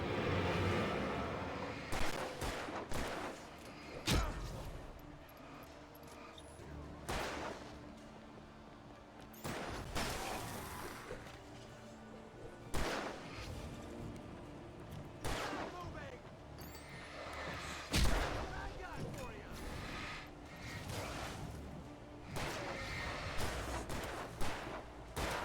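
Video game gunfire comes as repeated sharp, loud bursts of shots spread across the stretch, with some rapid volleys and crashes between them over a steady background din.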